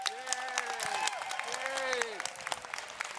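Room audience clapping to vote for an unnamed Democrat, a moderate spread of applause with some murmuring voices and sustained cheering tones over it.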